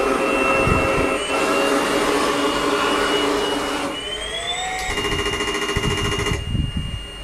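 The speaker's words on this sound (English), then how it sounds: "the fourth sound, which is the M1 sound. You hear the whine of the turbine." An RC tank sound unit reproduces the M1 Abrams gas turbine as a steady high-pitched whine that shifts pitch as it spools, sustained and close with no talking.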